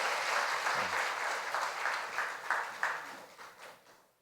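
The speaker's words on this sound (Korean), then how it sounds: "한 번 더 격려 박수 쳐주시고" Church congregation applauding at a pastor's installation service, a broad burst of clapping from many people that gradually thins and fades away toward the end.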